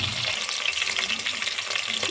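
Chopped green chillies and onion with seasoning seeds frying in a pan: a dense, steady crackling sizzle with stirring, close and fairly loud, no voices.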